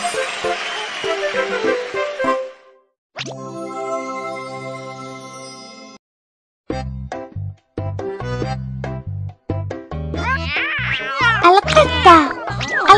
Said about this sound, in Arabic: القطة.